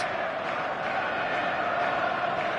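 A full stadium crowd in the football game eFootball 2026 produces a steady, dense roar of noise that holds evenly throughout without any distinct cheers or peaks.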